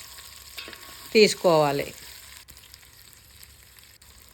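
Chicken pieces for coconut-milk chicken pulao frying in hot oil, a steady sizzle with stirring and a short louder burst of crackle near the middle; a voice speaks briefly at the start.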